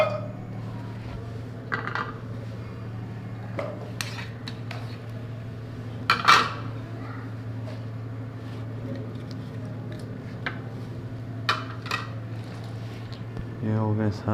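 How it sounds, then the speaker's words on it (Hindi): Vegetables tossed in a little cooking oil in a pan for a Chinese-style vegetable dish, with scattered spatula clinks and scrapes over a steady low hum. "अब इसमें सारी सब्जियां मिक्स करते हैं"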